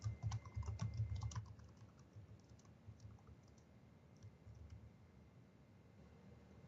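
Quick clicking keystrokes on a computer keyboard as a record title is typed into school office software, loudest in an opening burst and then lighter, scattered taps close by.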